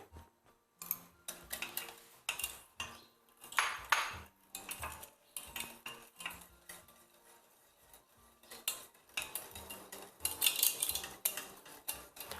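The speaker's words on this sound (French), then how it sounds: "Besoin de continuer à remuer jusqu'à ce que nous gagnions la crème." A spoon stirs a cream of melted butter in a pot over heat, giving rapid repeated metallic scrapes and clinks against the pot, close and continuous with brief pauses and no talk.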